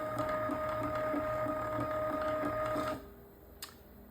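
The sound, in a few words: automatic filament spool loader for a 3D printer, Arduino-controlled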